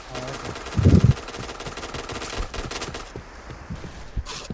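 Video game gunfire during a clan war, rapid bursts of shots with a loud volley near the start and quicker, lighter pops after it, heard alongside a game's background noise.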